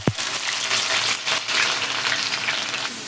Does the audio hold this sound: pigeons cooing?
no